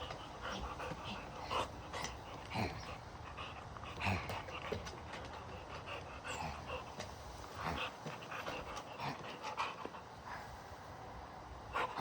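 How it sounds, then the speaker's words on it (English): A dog pants close by in quick, uneven breaths with occasional small whimpers and shuffling, while a person speaks briefly nearby. "This dog is being crazy this morning."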